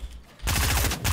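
Fortnite Battle Royale gunfire during a duo tournament match: after a short quiet gap, a sudden loud burst of rapid, close shots rattles on for about a second.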